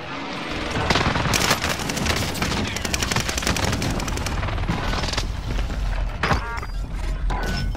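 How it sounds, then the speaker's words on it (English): Explosions and heavy gunfire from a precision airstrike in the video game Call of Duty Warzone Pacific, a loud, dense barrage of blasts and rapid bursts running continuously with brief sharper impacts. "Precision airstrike missed."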